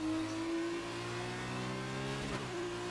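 Racing car in a racing video game accelerating on a track in Hungary, a loud continuous engine whine climbing through the revs with a brief gear-change dip near the end.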